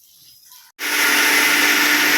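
A kitchen mixer grinder bursts into a loud, harsh whirr after a brief pause, grinding grated coconut and cooked rice into a batter; the motor roars steadily and close up with no talk.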